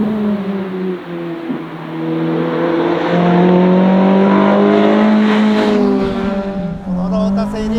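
A Lotus Elise R Special, built on the Type R with a modified engine and suspension, runs with a steady harmonic engine note that climbs and holds under load before easing, loud and close throughout.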